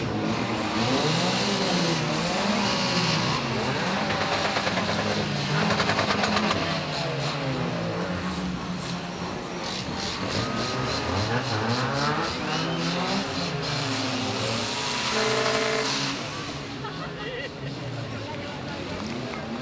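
Tuned cars roll past in a parade, engines revving and rumbling loudly and continuously, sweeping by one after another under an announcer talking over a PA.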